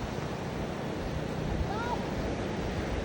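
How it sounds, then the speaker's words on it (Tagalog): Heavy ocean surf at a beach roars continuously with rushing, wind-buffeted noise, loud and close, with no clear breaks between waves. "sobrang lakas ng alon dito"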